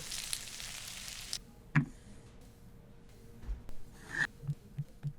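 Onion half rings sizzle in a frying pan, with a hissing burst at the start that settles to a quieter simmer broken by a few small ticks and pops.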